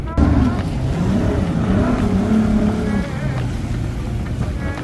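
A speedboat comes in on the water near Coral Island in Pattaya, its steady low motor drone rumbling continuously under wind, loud and close throughout.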